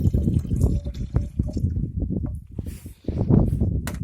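Furacilin solution is poured into a garden sprayer, making a close, continuous gurgling splash with a brief lull before the flow picks up again.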